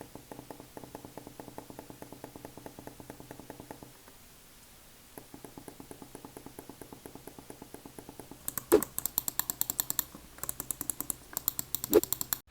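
Quiet wireless mouse and keyboard from a Doutor Office set, with rapid steady typing on the keyboard interrupted by a short pause, then sharper, more scattered clicks and keystrokes toward the end.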